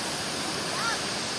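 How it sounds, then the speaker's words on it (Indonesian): The Semantung waterfall at Basungan in Pagar Dewa pours down in a steady broadband roar, close and enveloping, with no break. "Kita sampai di air terjun"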